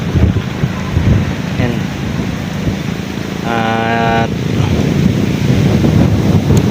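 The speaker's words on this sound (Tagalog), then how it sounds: "Narinig niyo naman sa video natin na ang lakas ng hangin." Strong wind buffets the microphone over a constant roar of waves and water at a milkfish fishing spot, loud and continuous, with a brief engine-like hum partway through.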